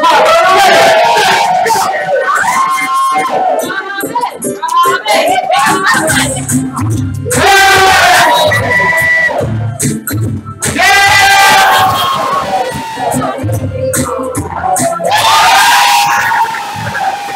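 A game show audience at a live-streamed event cheers, yells and whoops in loud repeated bursts between stretches of talk from a host.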